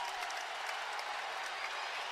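A crowd applauds at a college men's wrestling match between Iowa and Iowa State, a dense, loud and continuous wash of clapping from a large arena audience.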